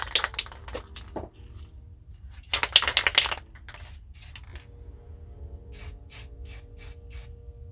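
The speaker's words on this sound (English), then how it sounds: "we're going to take our white and we're going to spray it onto our palette knife" Short bursts of white spray paint hissing onto a palette knife, a cluster of quick sprays followed by several brief rhythmic puffs, with faint clicks and handling noise between them.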